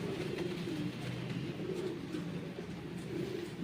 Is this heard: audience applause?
no